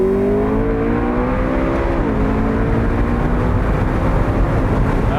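McLaren MP4-12C Spyder accelerating hard on the autobahn, a loud sustained engine note climbing in pitch, dipping at a gear change, then rising again under heavy wind and road roar.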